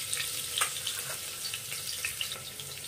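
Slit green chilies and finely chopped garlic fry in a pan with a soft, steady crackling sizzle and scattered sharp pops, fairly faint and close.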